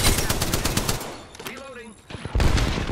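Rapid automatic gunfire in Apex Legends gameplay rattles loudly in dense bursts, dropping away briefly in the middle where a game voice line and tonal effects come through, then resuming at full volume.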